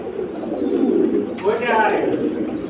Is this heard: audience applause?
no